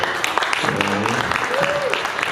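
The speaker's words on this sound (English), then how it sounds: "Everybody clap for Debbie" Applause from an audience at a free comedy show held at a VA hospital, continuous clapping with a voice talking over it partway through.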